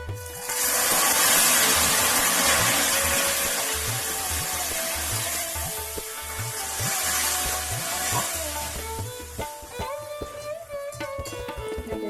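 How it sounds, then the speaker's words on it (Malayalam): Jackfruit chips fry in hot oil, with a loud steady sizzle that surges as salt water is sprinkled into the pan, then settles into lighter crackling with scraping stirs toward the end. "അങ്ങനെ ഓരോരോ ബാച്ച് നമുക്കൊന്ന് വറുത്ത് കോരിയെടുക്കാം കേട്ടോ"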